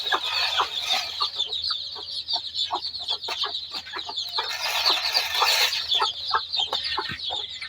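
A hen and her chicks cluck and peep steadily while feeding, a busy run of short chirps and clucks close by with no talking.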